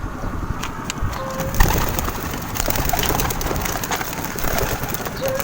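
Pigeons cooing outdoors during a training toss near a bridge, soft repeated coos over steady wind and rustling with a brief knock partway through.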